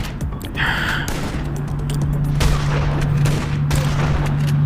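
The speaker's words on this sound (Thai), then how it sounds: "คุณตำรวจยิงปืนปอแปะมากเลยนะ" Bursts of police gunfire in the video game Armed Heist crackle over a steady low hum, with a sharp gasp-like rush near the start and continuous noisy shots throughout.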